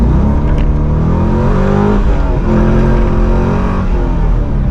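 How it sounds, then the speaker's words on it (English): A Chevrolet Corvette C5 Z06 on new wheels and tires accelerates hard at full throttle through first and second gear, its loud, close engine roar climbing in pitch, dipping at the shift, then climbing again. "First, second gear there, I went all the way to the floor pretty quickly."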